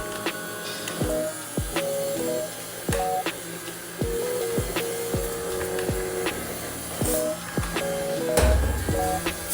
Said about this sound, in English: I was running after this vacuum cleaner because it was just going everywhere